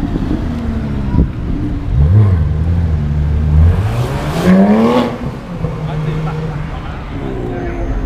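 A Porsche 911 R supercar at the Top Marques 2017 show revs up with two loud rising engine bursts followed by a fading rumble, with a nearby voice exclaiming over it.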